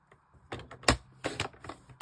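Cardstock is cut on a paper trimmer for card making, giving a series of sharp clicks and short slicing strokes, close and irregular, with no talking.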